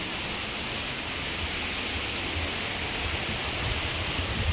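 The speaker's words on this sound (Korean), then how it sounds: "물소리가 굉장히 웅장하게 들려요." Cheonjeyeon waterfall on Jeju roars continuously, a dense, steady wash of falling water heard close and loud with no other sounds.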